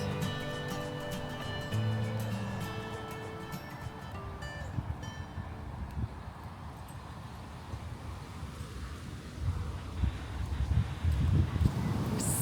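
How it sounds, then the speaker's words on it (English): Wind gusting outdoors on a sunny day near Inverness, a broad rushing buffet across the microphone that swells toward the end, with faint background rumble. "The wind has picked up."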